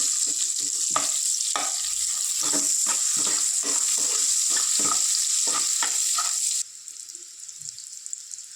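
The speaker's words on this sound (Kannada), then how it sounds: "ಈರುಳ್ಳಿ ಫುಲ್ಲು ಕಲರ್ ಚೇಂಜ್ ಆಗೋವರೆಗೂ ಫ್ರೈ ಮಾಡ್ಕೋಬೇಕು." Onion fries in a pan for egg gravy, giving a bright constant sizzle with repeated scraping stirs, before the sizzle drops suddenly and only a quiet hiss remains.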